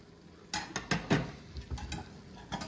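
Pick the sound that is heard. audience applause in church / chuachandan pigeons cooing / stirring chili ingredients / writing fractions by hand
stirring chili ingredients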